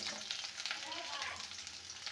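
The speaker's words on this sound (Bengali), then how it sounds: "এবারে পেঁয়াজ, আদা, রসুন এগুলো ভালো ভেজে নেব।" Onion, ginger and garlic frying in mustard oil in a kadai, a soft continuous sizzle with small crackles and stirring sounds, fairly faint throughout.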